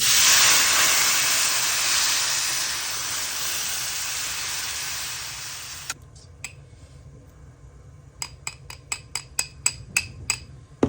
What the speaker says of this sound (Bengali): এবার আমি জল ঢেলে দিব জলটা আমি গরম করে নিছি নিয়ে ঢেলে দিব